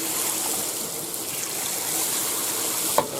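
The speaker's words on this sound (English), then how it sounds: "So we'll get some warm water going here." Warm water running steadily from a tap for rinsing stains out of a round-top hat, a continuous rushing stream with a small knock near the end.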